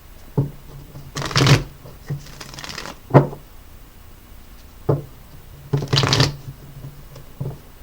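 Playing cards are shuffled in several quick riffling bursts, close by, with brief taps and pauses between them.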